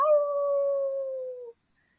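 A person imitates a werewolf howl during a tabletop role-playing one-shot: a single sustained, clear, tonal howl holding steady pitch for about a second and a half, then cutting off to silence.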